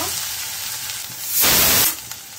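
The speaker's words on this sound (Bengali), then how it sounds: "এবার মিডিয়াম ফ্লেমে রেখে কিছুক্ষণ আমি নাড়াচাড়া করে নেব।" Salt and turmeric sizzle as they're stirred in a frying pan over a medium flame: a steady crackling fry with one brief, louder surge of hissing midway.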